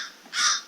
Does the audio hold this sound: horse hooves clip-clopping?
no